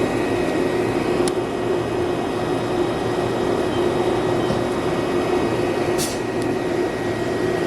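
A lathe parts off a machined part, giving a steady, loud broadband whir with a constant low hum and a couple of brief high squeaks from the cut, with no voices.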